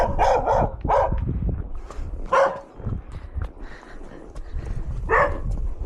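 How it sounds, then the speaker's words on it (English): A dog barks at the door in several sharp, loud bursts, spaced irregularly, with fainter rustling and movement between the barks. "with the dog barking at the door then"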